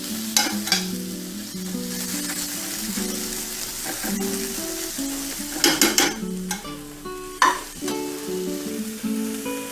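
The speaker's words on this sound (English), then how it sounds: "Don't want to burn our garlic there. And I'll stir this around a little bit during the time here" Garlic sizzles steadily in a pan while being stirred, with scraping utensil strokes and occasional louder clatters against the pan over continuous frying hiss.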